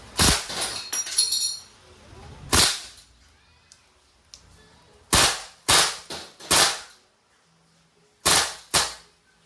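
A Crosman A4-P airgun fires on full auto in sharp, loud bursts: an opening rattle of rapid shots, a single crack, then several spaced clusters of snappy reports separated by quiet pauses.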